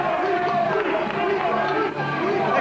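A wrestling crowd cheers and applauds for the FWA tag team champions, a dense, steady roar of voices and clapping that fills the arena for the whole stretch.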